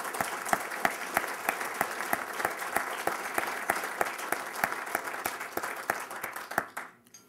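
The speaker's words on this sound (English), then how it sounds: "Let's give him a round of applause." A large audience applauds a newly named president-elect of the American College of Cardiology at an awards event, with steady, dense clapping that holds strong throughout and then fades out quickly at the end.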